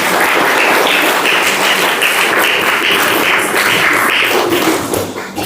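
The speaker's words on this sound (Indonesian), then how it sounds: "berikan tepuk tangan yang meriah" A lively crowd claps loudly and densely at a character-education gathering, a continuous close roar of many hands that holds steady for about five seconds before thinning at the end.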